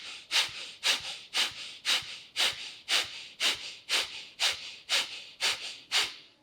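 Kapalabhati yoga breathing done as forceful nasal exhalations, about fourteen sharp, evenly spaced puffs of breath in a steady rhythm, close and clear with no talking.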